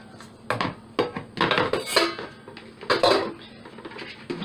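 Ceramic bowls and pots, including greenware pottery, clink and knock together as they are handled. The sharp clatters come in irregular bursts with short pauses between them, close by and fairly loud.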